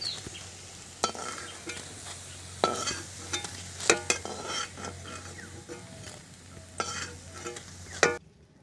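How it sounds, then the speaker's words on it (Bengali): Banana flower koftas frying in oil over low heat, a steady hiss with spoon stirs and occasional sharp scrapes and clinks against the pan, close and continuous. "এইভাবে আমি সবগুলো কোপ্তা ভেজে নেব।"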